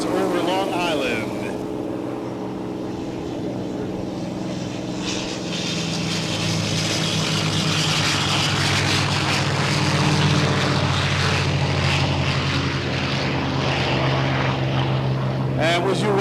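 A P-51 Mustang warplane flies past at an airshow, its piston engine building from a distant drone to a loud, rich roar, with voices over a loudspeaker.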